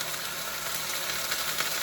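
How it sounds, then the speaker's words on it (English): A pork chop sizzles in a hot frying pan, a steady close crackling hiss that holds evenly throughout the short stretch, with no one speaking. "It will sizzle just like this."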